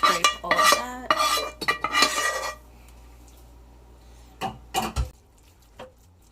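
A utensil scrapes tomato topping across Sicilian sfincione dough, giving a burst of close, busy scraping and clinking strokes, then a quiet pause before a few more short scrapes and taps.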